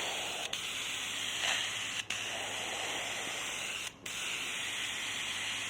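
Spray gun laying a light, misty paint coat over a Honda Civic, a continuous close hiss of atomized paint with a few brief breaks where the trigger is released, no talk.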